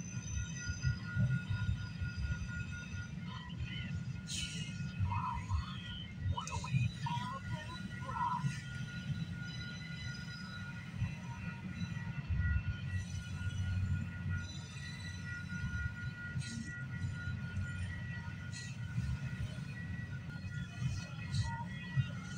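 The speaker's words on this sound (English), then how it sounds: "he's going really slow. It's got 100 cars on this train" A long 100-car freight train creeps slowly past at night in West Toronto, a continuous low rolling rumble of wagons with occasional brief metallic wheel squeals over the top.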